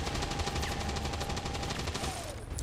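Sustained suppressing gunfire in the XCOM 2 video game, heard as a dense, rapid rattle of repeated shots over a constant loud backdrop for the whole moment.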